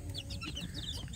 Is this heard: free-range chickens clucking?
yes